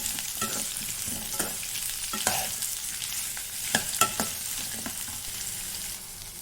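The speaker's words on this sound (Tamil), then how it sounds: "நெக்ஸ்ட்டு நம்ம உரிச்சு வச்ச பூண்டு அண்ட் வெங்காயம் இது ரெண்டையும் சேர்த்து நல்லா வணக்கிக்கலாம்." Peeled garlic and onion sautéing in hot oil in a pan for garlic chutney, a steady close sizzle broken by several sharp scrapes and clacks as a spoon stirs through the pieces.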